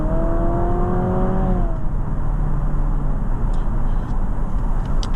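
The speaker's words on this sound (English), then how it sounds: "I put the engine under load." A 2023 Honda Civic Hybrid's engine is put under load on a night drive, with a steady, loud droning hum and rising then falling tonal whine early on, continuous road and engine noise throughout with no talk.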